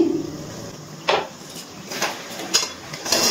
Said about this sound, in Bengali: আবারও একটু নাড়াচাড়া করে নিচ্ছি।